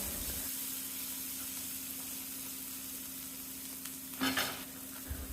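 Ingredients for spicy paneer chops sautéing in a pan, a faint steady sizzle with a low hum beneath and a short burst of scraping stirring near the end.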